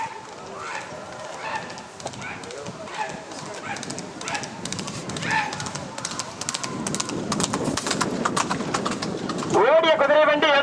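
Rapid hoofbeats of a racing horse cart on a track at a horse race, steady and building, with a crowd and Tamil announcer voices over them and a sharp rise near the end.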